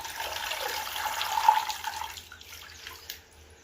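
Water pours and drains off soaked finger millet for several seconds in a steady, fairly close rush, then thins to faint trickles and drips.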